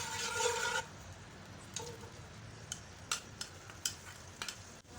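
Onions frying in mustard oil in a pot give a brief loud hiss at first, then fade to a faint sizzle with scattered light clicks and scrapes of stirring.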